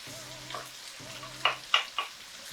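Lentils tipped into a pot of lentil, mushroom and leek soup and stirred, giving a few soft scraping knocks and a faint sizzle against quiet kitchen background.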